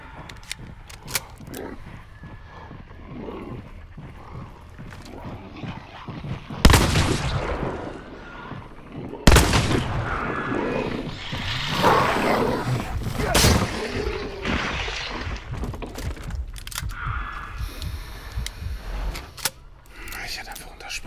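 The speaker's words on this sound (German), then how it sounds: "Ein Schuss, ne?" Gunfire in the game Hunt: Showdown, with two loud sharp shots standing out around seven and nine seconds amid a busy mix of game noise, while people talk throughout.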